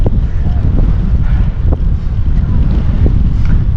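Loud, steady headwind buffeting a microphone as a cyclist rides uphill on a mountain road, a continuous roaring rumble with no pauses.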